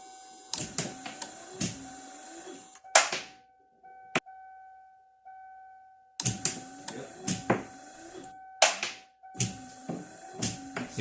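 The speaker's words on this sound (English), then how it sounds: "it's caused by a plastic ball which is tied to a string that's hanging down from the ceiling, and it's touching the windshield wipers each time they move." A plastic ball hanging on a string taps against moving windshield wipers on a 2005-2010 Kia Sportage, giving sharp clustered clicks and knocks in bursts with each wiper sweep, separated by quiet gaps and a faint motor hum.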